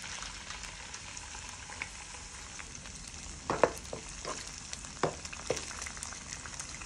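An egg fries in a hot pan while making pad thai, a steady close sizzle broken by scattered crackles and pops.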